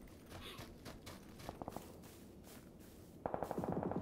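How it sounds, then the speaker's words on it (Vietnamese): Gunfire in the battle royale game PUBG on the Erangel map: a burst of quick shots in the middle, then denser rapid firing toward the end, fairly faint under game ambience. "Lại tiếng súng bắn nhau"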